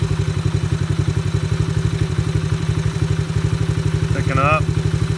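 A cheap Chinese ATV's four-stroke engine idles with a steady, close, rhythmic chugging during carburetor tuning, its pace lifting slightly toward the end, where a voice briefly speaks.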